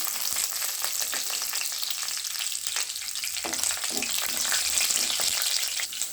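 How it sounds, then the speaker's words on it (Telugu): Tempering spices with a dry red chili and green chilies fry in hot oil, giving a constant dense sizzle with crackles and occasional pops, close and steady, with no talk. "పోపు దినుసులు వేగుతున్నప్పుడు ఇందులోకి ఒక ఎండుమిర్చిని యాడ్ చేసుకుందాం"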